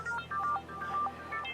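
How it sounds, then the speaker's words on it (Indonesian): A telephone rings with a short electronic ringtone, a quick series of bright, evenly pitched beeps repeating in a tight pattern, moderately close and alone. "Ada telepon?"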